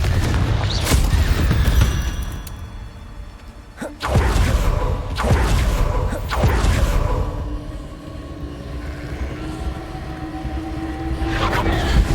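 Spells cast in combat in Hogwarts Legacy, including Incendio and Expelliarmus, land as loud booming impacts and blasts at a few points over a rumbling, busy background, with sustained tonal magic effects between.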